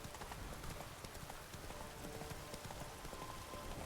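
Roach, the horse in the video game Witcher 3, clip-clops along in a steady, continuous rhythm of hoofbeats over a soft, noisy background.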